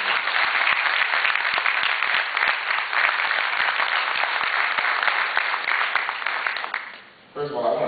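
At a Black history gathering in Windsor, Connecticut, an audience gives the young people a loud, sustained round of applause, with dense clapping throughout that drops off abruptly near the end as a voice begins speaking.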